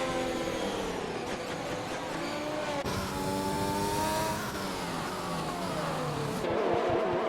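A race car engine lapping a track in a sim racing game set in the Netherlands, droning loudly and continuously with rising and falling revs through gear changes and corners, heard alone without talk.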